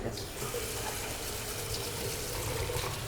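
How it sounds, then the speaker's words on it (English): Water runs steadily from a tap as hands are washed at a sink in a seed company's research facility, a constant close splashing hiss filling the whole moment with no talk. "So we have to wash our hands."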